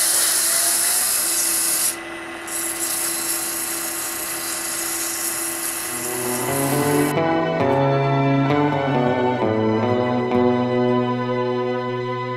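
A steady, rough whirring of sandpaper against wood spinning on a lathe, a cabriole leg, runs loud and continuous, then music comes in and plays over the fading grind.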